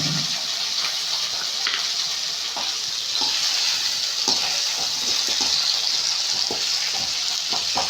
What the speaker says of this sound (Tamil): தண்ணியை விட்டு நல்லா அலசிட்டு தண்ணியை இருத்துட்டு காய போட்டுக்கலாம்